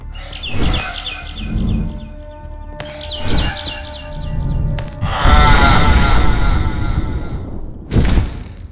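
A bird creature in Garten of Banban lets out high chirping calls, a few separate cries spaced across the moment before a longer, louder burst of shrill tweeting near the end, with deep thuds underneath.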